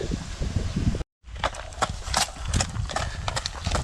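Hooves clip-clop steadily as horses walk on a hard surface, close by, with a brief dropout near the start and some rustling in the background.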